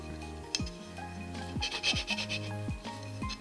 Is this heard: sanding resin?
yes